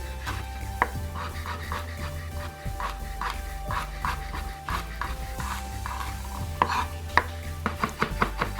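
Rough chopping of ingredients on a cutting board before they go into a mortar and pestle: a steady run of crisp knife strikes, with a few louder chops near the end and no talking.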